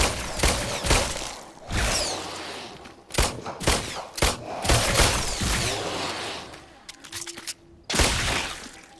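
Gunshots in The Brookhaven Experiment, loud individual cracks and short clusters of shots with sharp attacks separated by gaps, some ringing debris between them.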